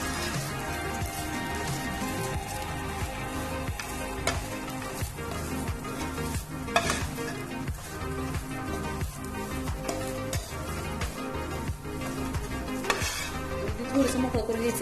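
Khoa milk solids roasting in ghee in a pan for karanji filling, with steady close stirring scrapes and a soft continuous sizzle throughout, no voices.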